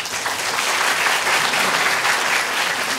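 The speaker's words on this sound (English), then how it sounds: "Can we first please give Anita a big round of applause?" An audience at a talk on family and community care gives the speaker Anita a steady round of applause, dense and even clapping throughout with no talk over it.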